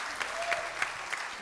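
Audience clapping at a live entertainment show with an on-stage battle, a brief and fairly faint patter of many hands with a few sharper claps standing out.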